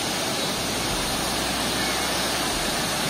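Tad Kuang Si waterfall in Luang Prabang, Laos pours in a steady, loud, broadband roar of falling water that fills the whole stretch without a break and with no other sound standing out.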